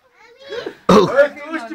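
A single loud, close sneeze bursts out in a home setting, preceded and followed by people talking.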